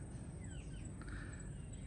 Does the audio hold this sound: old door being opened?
no